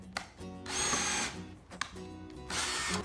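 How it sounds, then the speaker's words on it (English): Power drill whirs through a rubber tire, boring a pilot hole in two close, fairly loud bursts separated by a brief pause, with faint clicks around them. "take our smaller drill bit and drill all the way through for a full pilot hole"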